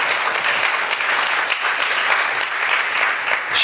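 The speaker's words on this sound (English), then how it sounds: "Let's have applause." An audience at an ISKCON Chicago community appreciation gathering applauds, a dense steady wash of many hands clapping for several seconds at even loudness with no talking.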